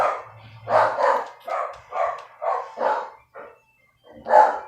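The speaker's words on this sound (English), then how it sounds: "And there goes the dogs again." Several sharp dog barks arrive in an uneven burst of about eight, fairly close and loud, with a brief low growl at the start and a short pause before a final bark.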